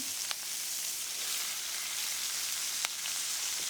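Peppers and onions sizzle in a pan with a steady, close hiss and a couple of sharp crackles, alone without talking.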